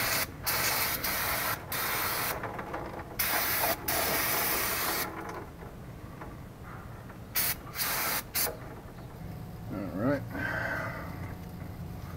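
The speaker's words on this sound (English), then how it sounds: "Put my drip pan back underneath here, spray some cleaner." Brake cleaner sprays in repeated loud bursts onto the rear drum brakes of a 1981 K5 Blazer 4x4, close and hissing, with short pauses between blasts and a few quieter sounds near the end.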